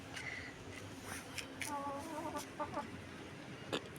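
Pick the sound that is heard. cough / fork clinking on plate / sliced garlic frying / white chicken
white chicken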